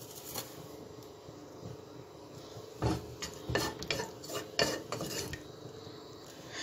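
Orzo-shaped pasta stirred in ghee in a pot, the spoon scraping and clinking against the metal in irregular strokes over a faint sizzle, close and fairly quiet.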